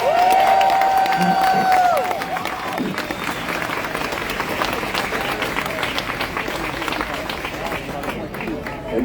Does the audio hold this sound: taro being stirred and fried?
no